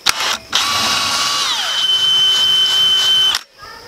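Close and loud, a power drill whirs through a hole with a bit found too small, starting after a brief burst, its tone dipping and then holding a steady whine for nearly three seconds before cutting off.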